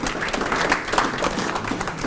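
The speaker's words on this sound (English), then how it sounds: "Nice round of applause for Chad." Audience applause at a sports hall of fame event, steady dense clapping from a crowd throughout, with no voices standing out.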